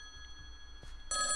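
Telephone in a phone booth in a video game starts ringing partway through, a bright, loud electronic ring following a quiet stretch with a short knock.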